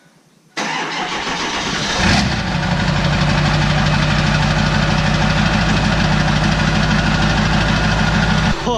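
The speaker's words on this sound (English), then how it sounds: "I'm going to get this truck started up, because I'm really curious to see if it sounds any different or not" A straight-piped Ford 7.3 Powerstroke diesel pickup with its muffler deleted cranks briefly, then fires and settles into a loud, rough, throaty idle with a steady knocking clatter, heard close up.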